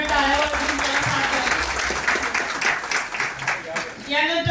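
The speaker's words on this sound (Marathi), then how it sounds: "सर्वांनी टाळ्या वाजवून त्याला साथ" Audience applause at a college NET-SET exam inauguration ceremony, broad steady clapping running throughout, loud and close, with a voice speaking over it.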